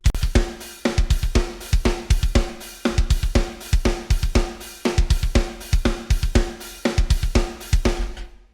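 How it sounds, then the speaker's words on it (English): Programmed MIDI drum groove with a snare backbeat falling on every other eighth note, kick and hi-hat keeping a steady, tight, repeating pattern; loud, close and dry, with no voices. "So a backbeat, but now the backbeat is happening in eighth notes instead."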